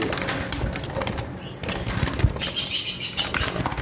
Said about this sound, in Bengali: অনেক বেশি উড়াউড়ি করতেছে কারণ পাখিগুলো বেশি ভয় পাচ্ছে